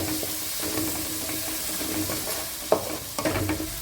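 Fried tomato and onion with turmeric stirred in a hot pan, steady close sizzling with a couple of scraping spatula strokes near the end.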